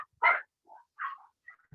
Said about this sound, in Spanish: Disculpen, está el perrito acá adentro.